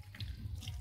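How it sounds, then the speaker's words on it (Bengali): Water runs into a pan of potatoes and soybeans cooking in a spiced, dry-style curry, a steady close splashing pour lasting under a second. "এবার একটু জল দিয়ে দেবো"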